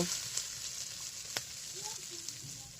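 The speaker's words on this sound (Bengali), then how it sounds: "এটা এখন আমরা চুলাতে পেঁয়াজ আর মরিচটা দিয়ে নিয়েছি, এগুলো একটু ভেজে নেব" Onion and green chili frying on a village stove give a continuous soft sizzle, fairly faint, with a couple of light clicks from a stirring spoon.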